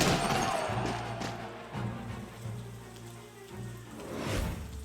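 Steady rain in the tactical video game Banner of the Maid: a continuous soft, broad hiss, with low sustained musical tones underneath and a few dull thumps.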